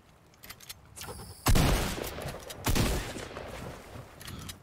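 Gunfire in the Fortnite video game: two sharp bursts of shots about a second apart stand out over a quiet background, with no talking.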